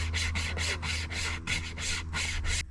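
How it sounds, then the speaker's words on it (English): A small hand wire saw rasps steadily back and forth through a wooden stump, about a dozen even strokes in quick rhythm, close and fairly loud, with no voices. "I will be testing out this little hand wire saw"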